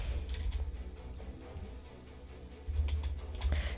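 Rapid clicking of a computer keyboard being typed on, with uneven bursts of keystrokes over a low background hum.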